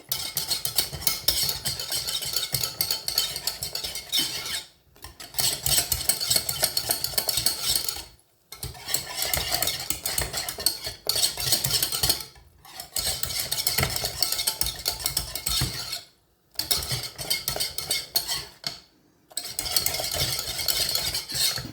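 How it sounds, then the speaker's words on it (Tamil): A spoon stirs pastry cream in a pot, scraping in a continuous close rhythm, broken by several short pauses. "நல்ல வடிவாக கட்டிப்படாமல் கலந்து விடணும்."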